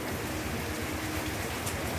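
Steady, dense rain pours continuously, a broad hiss with low rumbling underneath and no voices, holding an even loudness throughout.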